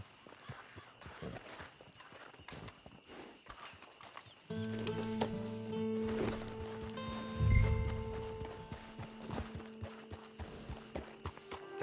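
A horse at a camp walking up with irregular clip-clop hoofbeats, moderately close, with a louder thud near the middle over faint background ambience.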